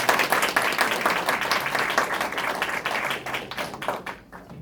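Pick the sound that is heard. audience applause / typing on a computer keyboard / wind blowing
audience applause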